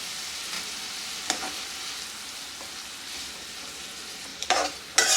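Finely chopped tomato with green chillies fries in a pan, a soft continuous sizzle close by, with a few scraping stirs of a spoon that grow louder toward the end.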